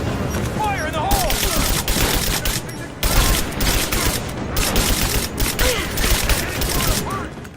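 An explosive blast breaks through a wall in Rise of the Tomb Raider, loud and sustained amid continuous gunfire and rumbling game action, with a voice talking underneath.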